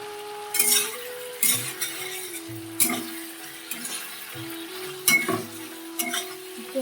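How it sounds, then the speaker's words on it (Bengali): Spices and Chandramukhi potatoes stir-fried in hot oil, with a steady background sizzle broken by repeated scraping stirs and occasional clinks of a utensil against the pan. "তারপরে গরম মশলাগুলো সব কিছু দিয়ে মশলা দিয়ে ভালো করে কষাচ্ছি"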